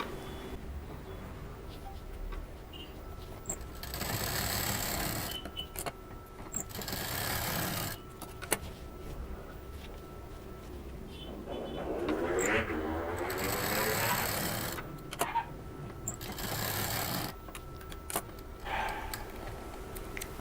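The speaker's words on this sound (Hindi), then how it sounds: "इसको खींचना नहीं है, बहुत आराम आराम से सिलना है।" A sewing machine stitches a reversible shopping bag in several separate bursts of close, steady whirring with short pauses and handling noise between runs.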